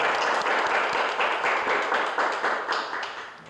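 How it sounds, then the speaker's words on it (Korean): Church congregation applauding in welcome during a Sunday worship service, a rhythmic, moderately distant round of clapping that gradually tapers off. "우리 잠시 일어나실 때 우리 큰 박수로 환영하겠습니다."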